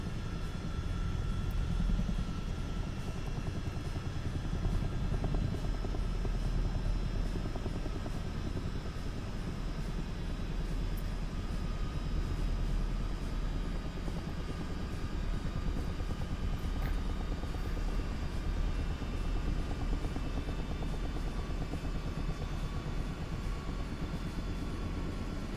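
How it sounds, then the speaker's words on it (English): A Chinook helicopter auto-rotating in Microsoft Flight Simulator 2024 gives a steady, loud, continuous rotor and engine drone with a thin high whine, unbroken for the full stretch and without voices. "Let's auto-rotate a Chinook."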